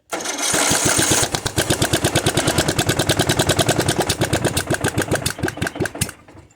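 Murray riding mower engine, running on choke, turns over and catches, then chugs in a fast, loud, even putter close by before cutting out.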